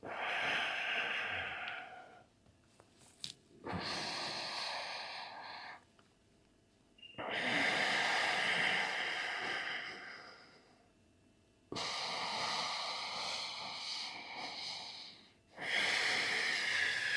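During a breathwork meditation, slow, deep breaths come close and clear in long hissing inhales and exhales, about five cycles separated by short pauses, with no talking.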